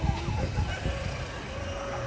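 Crossbred roosters clucking in a coop, a few low clucks near the start with more murmuring behind, against steady background noise.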